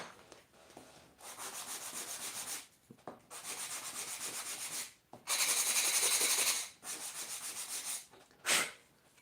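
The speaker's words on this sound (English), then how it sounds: "And now it's ready for" Hand sanding of a cut wooden craft piece, close and clear: a series of steady rubbing strokes in bursts of a second or two each, separated by short pauses, with one louder, brighter stretch near the middle.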